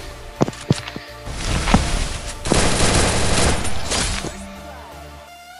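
Gunfire from the mobile battle-royale game Garena Free Fire: a few separate single shots, then loud rapid automatic bursts running for several seconds before tapering off.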